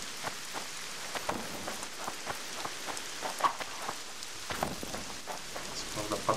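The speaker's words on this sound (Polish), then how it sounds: "Co prawda pada deszcz ciągle" Steady rain falls in The Witcher 2, pattering continuously on surfaces as a close, soft wash with scattered louder drops and no voices.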